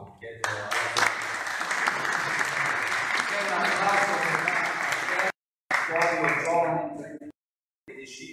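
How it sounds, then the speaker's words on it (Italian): Audience applause at a press conference, a loud, dense patter of many hands sustained for several seconds, broken by two abrupt silent gaps near the end, with no talking over it. "chiedo un applauso"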